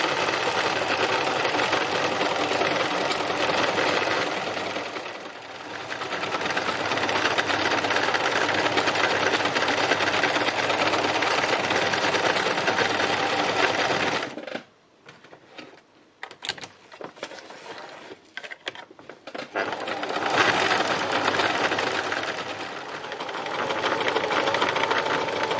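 A sewing machine doing free machine embroidery whirs loudly and steadily, pausing briefly around the middle with a few stop-start bursts before resuming its continuous run.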